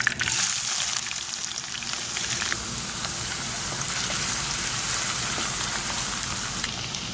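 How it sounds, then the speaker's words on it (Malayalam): Ginger frying in hot oil for prawn pickle gives a dense, continuous close sizzle, steady and crackling throughout with no talking. "ഇഞ്ചി ചെറുതായി ഒന്ന് മൂത്ത് തുടങ്ങി"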